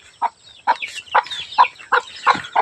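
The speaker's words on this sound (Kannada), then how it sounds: "ನೋಡಲ್ಲಿ ಕೋಳಿಗೆ ಮೇವು ಹಾಕಿದ್ನಲ್ಲ, ಅವರಮ್ಮ ಎಲ್ಲರನ್ನು ಮೇಯಿಸ್ತೈತೆ" Hens cluck repeatedly at a farmyard feeding spot, a mother hen calling her chicks to food in short, evenly spaced bursts, close and fairly loud with no talk.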